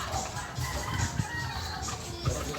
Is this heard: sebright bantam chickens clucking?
yes